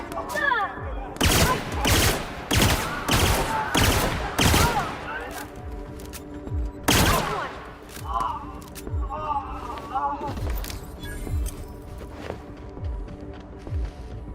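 Gunfire in a space adventure video game, loud rapid bursts of shots in quick succession that later thin to scattered sharper blasts, mixed with game sound effects and voices.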